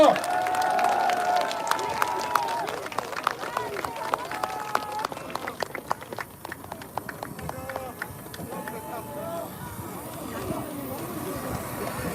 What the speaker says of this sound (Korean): 여러분 다시 한번 뜨거운 박수 보내주시기 바랍니다